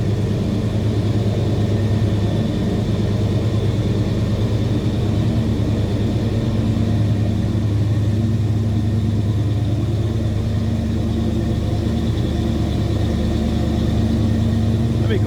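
A 1986 Chevrolet K10 Silverado 4x4 truck engine runs at a steady idle, a constant low rumble with a faint higher whine, close and continuous, with someone talking at points over it.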